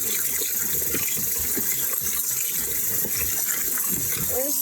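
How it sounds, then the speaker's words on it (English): Water running steadily over blended, peeled beans during rinsing, a continuous close gush from a tap with small splashing and clinking underneath. "Then I rinse one more time."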